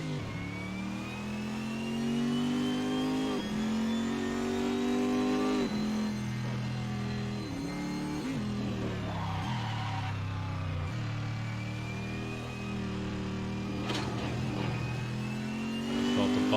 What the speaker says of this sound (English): I love the ability to do burnouts, pretty much at will on Assetto Corsa here.